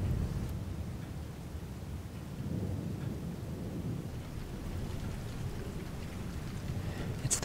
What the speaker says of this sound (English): It's the perfect time again for a thunderstorm.